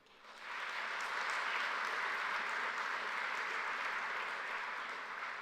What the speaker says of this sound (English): I think you deserve to give yourselves a big round of applause.